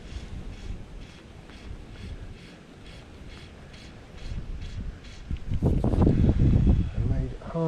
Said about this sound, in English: And made it harder by this wind.